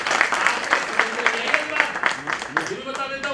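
An audience at a lawyers' enrolment meeting claps in a brief burst, quick regular claps near the microphone as someone speaks over them.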